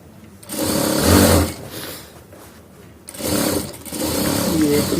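A sewing machine runs in two close, loud bursts, stitching a double seam on a shirt, with a short pause between runs.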